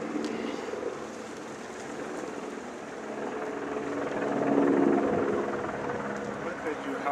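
A helicopter thrums in the background in Hawaii, swelling slightly louder midway, while people talk over it.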